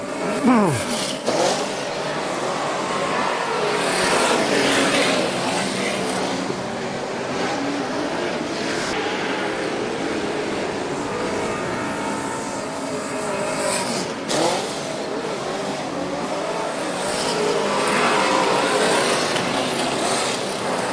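Speedway race cars lapping a dirt track while jockeying for positions in a qualifying heat, engines roaring and revving continuously with passing surges over the full stretch, and a commentator talking over the noise.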